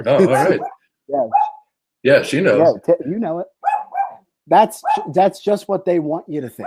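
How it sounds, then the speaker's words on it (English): A pet dog yaps and barks in short bursts close by while someone talks to it in a relaxed, joking tone, the dog's sounds woven between his phrases. "Tinkerbell agrees. That's my dog."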